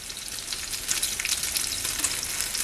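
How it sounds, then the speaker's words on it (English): Bacon grease sizzles and crackles steadily on a Dash Flex Press Grill as it drains toward a container underneath, a dense, continuous frying hiss heard up close with no talking. "Let's see if we could drain some of the bacon grease."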